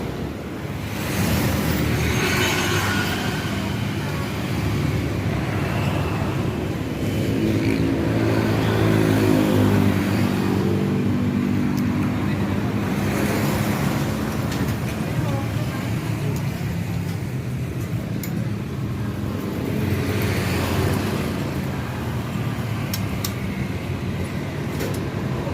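A motorcycle fitted with a full stainless steel Torindo exhaust runs with a steady, loud engine rumble for the whole stretch, its pitch shifting slightly around the middle.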